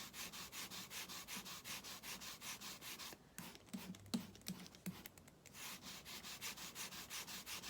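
Sponge dabbing Bermuda Bay ink onto Stampin' Up! Flowering Foils specialty paper, a steady close rhythm of soft rubbing strokes repeating about twice a second, briefly broken by scattered taps midway.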